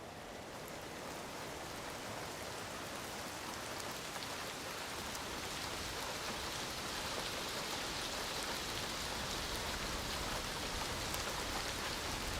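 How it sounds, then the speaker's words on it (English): Steady rain falls through a forest in the middle of a cold winter, a dense even hiss of drops on surfaces that continues unbroken throughout, with no voices. "On rare occasions, rain falls even in the middle of winter."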